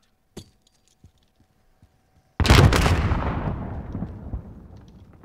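A grenade blast in the Warzone video game: a few faint clicks and taps, then a sudden loud explosion that booms and rumbles, trailing off over several seconds with no talk.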